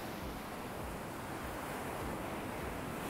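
Ocean waves wash in at a beach in a steady, continuous rush of surf mixed with wind buffeting the microphone, fairly distant and even throughout.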